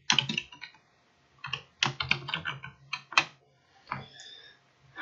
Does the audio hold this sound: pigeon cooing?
no